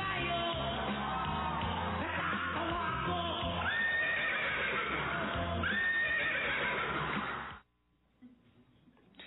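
A horse neighs and whinnies as a sound effect on a Spanish-language radio comedy show, loud and continuous with crowd-like noise for about seven seconds before cutting off abruptly into near silence.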